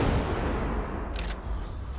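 Heavy .700 Nitro Express rifle shots fired at T. rexes in a prehistoric video game, a rumbling booming wash of blasts with dense low-end noise and no voices.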